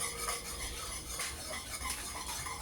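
A man cooking at home stirs food in a pan, with faint, steady scraping and clinking of a utensil against the pan under a soft sizzle, heard quietly with no talking.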